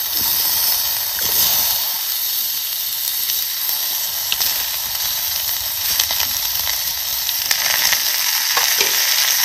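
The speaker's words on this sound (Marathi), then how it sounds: "आता हे ना आपल्याला सतत असं हलवत आहे का नाही टोमॅटो आणि कांदा आपल्याला मऊ असा करून घ्यायचा आहे" Onion and tomato fry loudly in a pan for a Satara-style misal, giving a dense, continuous hiss and sizzle. Stirring scrapes are scattered throughout and no one speaks.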